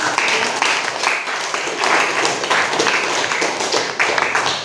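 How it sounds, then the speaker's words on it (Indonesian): Students in a classroom clapping for a classmate's answer during a hospitality lesson, close and fairly loud, with uneven bursts of hand claps throughout. "Tepuk tangan dong"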